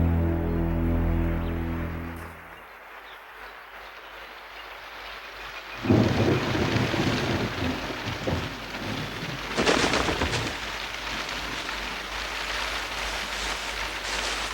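Early morning rain falls steadily in a northern forest, a dense hiss of drops on leaves and ground, with heavy rumbling thunder rolling in twice and a low droning tone fading out at the start.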